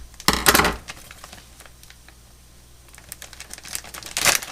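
A sharp cutting and crinkling burst opens a plastic-wrapped package of mild cheddar cheese, quieter rustling follows, then another crisp tearing burst near the end.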